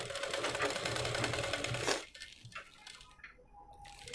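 A sewing machine runs steadily while stitching piping onto an umbrella dress, a dense continuous whir for about two seconds before stopping and leaving quieter handling sounds.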